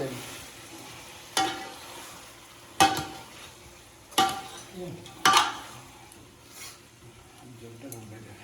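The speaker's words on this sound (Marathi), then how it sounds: "आता तुम्ही बघा तेलामध्ये परतून घेणार" Spices, tomato, onion and green chilli sautéing in oil in a pot over a village wood-fired stove for a country chicken feast, with a low sizzle broken by several sharp scraping stirs and clanks, voices talking faintly nearby.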